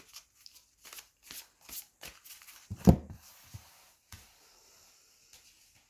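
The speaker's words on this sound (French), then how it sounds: "je vais tirer 3 cartes du Fairy" Oracle cards being shuffled at a reading table, a soft run of brief papery riffles and slaps with one louder thump near the middle, quiet and close with no talking.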